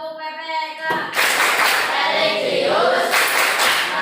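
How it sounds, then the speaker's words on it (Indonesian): Classroom students break into a rapid, dense PPK clapping routine after a short spoken cue, many small hands clapping together nearby with voices mixed in. "yuk kita bersama tepuk dan salam PPK terlebih dahulu"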